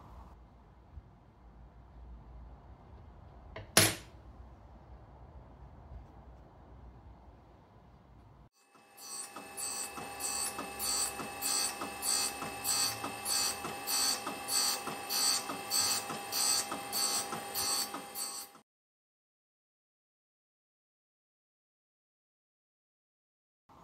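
A lathe tool bit for a flycutter being ground in a single pass: after a low hum and one sharp click, a harsh, steady grinding with rhythmic pulsing runs for about ten seconds, then stops dead into silence.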